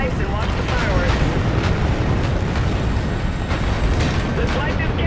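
A tower detonation in the video game Call of Duty Infinite Warfare: a loud, continuous rumbling blast with a heavy low roar and crackling debris that fills the whole moment.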